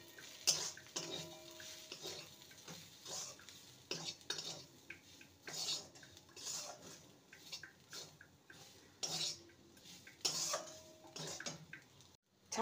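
Sattu is stirred into an oats and vegetable mixture in a pan, with quiet intermittent scrapes and clinks of a spoon against the metal and a faint sizzle between strokes, close but soft, with no talking.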